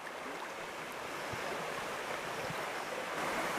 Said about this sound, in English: With the water running high and fast and a little bit murky now